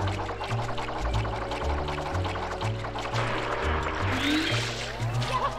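Mario splashes into water in Super Mario Sunshine, a short liquid pour and trickle under bouncy game music.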